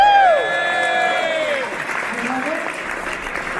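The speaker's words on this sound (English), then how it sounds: "big clap for Pain" Magic convention audience applauds amid cheering at a live show, clapping rising under a loud excited voice and whoops, then continuing as a steady crowd wash while speech carries on.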